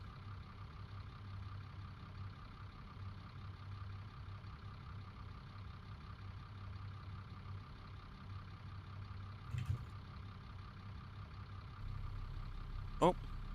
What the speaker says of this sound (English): Got an engine fan. You can hear it sitting there.